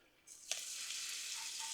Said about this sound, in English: As soon as that steak hits that griddle, you want that sizzle.